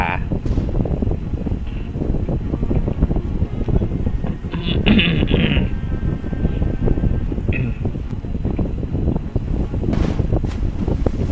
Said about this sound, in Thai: มันเรือโดฟานะ ของลูฟี่อีกแล้ว